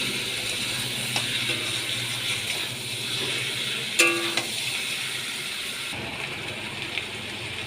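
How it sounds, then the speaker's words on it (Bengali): A bowl of water is poured into a hot pan of frying potatoes and prawns. A gushing splash comes midway through the steady sizzle, and the frying sound then quiets slightly. "তার মধ্যে আমি জল দিয়ে দিচ্ছি এক বাটি জল দিয়ে দিলাম"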